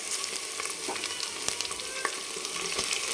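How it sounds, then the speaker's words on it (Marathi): Tomatoes tossed into a hot pan of oil for a mutton curry sizzle in a steady, close frying hiss, with a few sharper crackles and spatters, and no voices over it. "तर आता मी टोमॅटो टाकून घेते"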